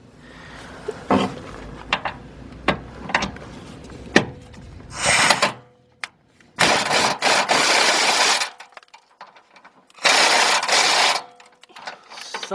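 A 13mm bolt on the fuel pump strap of a 1999 Lincoln Navigator is worked loose with a ratchet, with sharp clicks followed by bursts of loud mechanical whirring and grinding, then pauses.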